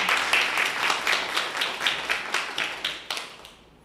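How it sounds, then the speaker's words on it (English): Light applause from a small audience, a patter of claps that rises briefly and then tapers off to silence. "we can all give a round of applause to Professor Hoheisel."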